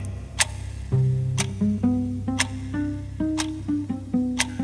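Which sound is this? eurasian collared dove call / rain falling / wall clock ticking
wall clock ticking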